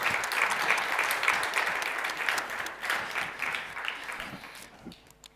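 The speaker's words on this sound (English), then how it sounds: "So a big round of applause for them." An audience at the Rolex Forum at EPFL gives a big round of applause for a student team at an unveiling event, loud, close clapping that swells, then thins and fades out near the end.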